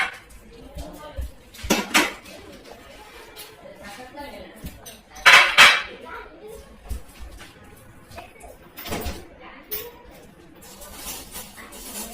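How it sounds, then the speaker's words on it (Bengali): Pots, dishes and cutlery clatter and clink in a home kitchen while noodles are cooked, a few sharp clanks standing out among scattered softer knocks, with a voice speaking faintly in the background. "তাড়াতাড়ি করে নুডলস রান্না করছি"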